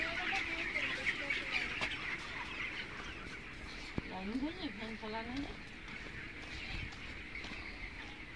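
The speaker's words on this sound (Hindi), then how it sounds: "देखिए दोस्तों यहाँ पर अभी ग्रोथ पाउडर दिया गया है, मुर्गियाँ कैसे खा रहे हैं।" Broiler chickens in a large poultry shed feed on grain mixed with growth powder. A steady chorus of clucks and peeps comes from many birds, with one louder drawn-out call standing out midway.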